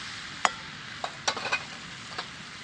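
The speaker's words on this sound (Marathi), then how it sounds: "बटाटा चवळे मस्त अशी मिक्स करून घेतली" Potatoes and cowpeas stirred in a pan, a few sharp scraping and clinking strokes of a spoon against metal over a faint low sizzle, spaced irregularly and heard up close.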